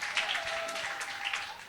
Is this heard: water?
no